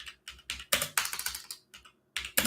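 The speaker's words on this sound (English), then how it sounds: "Let's type it on Google." A search being typed on a computer keyboard: short clustered bursts of crisp, close key clacks with small gaps between them.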